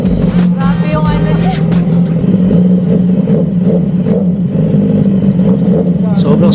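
A BMW motorcycle engine idles close by with a loud, steady low rumble and mechanical clatter, while someone talks over it throughout.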